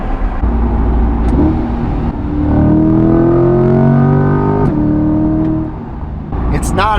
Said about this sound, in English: It's not as loud as the Armytrix, but it is still nice and loud.